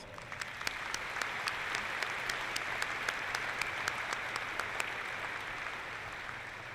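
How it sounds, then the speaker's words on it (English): Graduates at a college commencement ceremony applaud in a large hall, a dense, steady wash of clapping with a few sharper claps standing out, sustained at an even level throughout with no voices. "So how about giving yourself once again a nice round of applause?"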